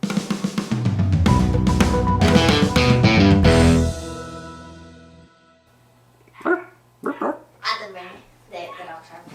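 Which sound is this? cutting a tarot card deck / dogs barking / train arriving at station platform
dogs barking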